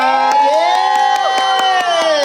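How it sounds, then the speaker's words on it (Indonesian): An event audience applauds and cheers as a performer is introduced, with sharp clap bursts over sustained shouting and whooping that sounds partly like children's voices, loud and close throughout. "Tepuk tangan buat Jerayut dong."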